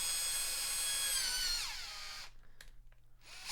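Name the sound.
power drill drilling pilot hole in Charizard figure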